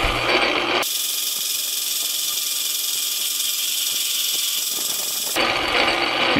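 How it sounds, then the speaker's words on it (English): A metal lathe in a small home shop spinning up once its belt is engaged, a steady close mechanical whir and rattle with a constant hum running throughout, no speech. "Of course, it might help to engage the lathe belt."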